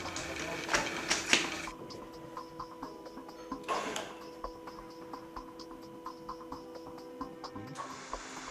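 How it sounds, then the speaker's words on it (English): A BDS AutoCUT 500 beveling machine motor runs after connection to the mains, giving a steady electric hum with a faint rhythmic ticking, preceded by a few louder clicks and clatters near the start. "Now connect the machine to the mains and check the direction of rotation of the motor."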